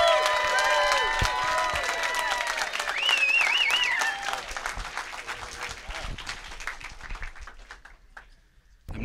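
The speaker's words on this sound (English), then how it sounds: "So let's give him a big round of applause, Startup Grind style, for Scott Heiferman." An audience at a Startup Grind event breaks into steady applause with some cheering, loud at first and thinning out toward the end, while a voice speaks over it early on.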